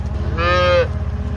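A single short cow moo sounds close by, a clear tonal bellow lasting about half a second over a low rumbling background.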